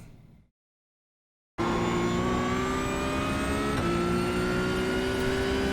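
A Porsche 992 GT3 Cup race car in iRacing at Imola powers out of a corner, its engine rising in a loud, steady high-revving drone with a brief dip at a gear change, following a moment of near silence.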